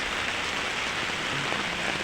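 Heavy rain falls steadily outdoors, a dense, even hiss of drops hitting surfaces that stays constant and fairly loud for the whole moment, with no voices over it.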